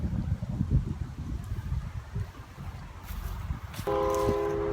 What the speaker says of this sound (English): You can probably hear the train whistle in the background.